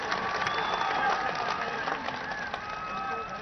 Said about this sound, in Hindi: एक बार सभी लोग दोनों हाथ ऊपर उठाकर जोरदार तालियों से उनका स्वागत करें